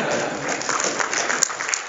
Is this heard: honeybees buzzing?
no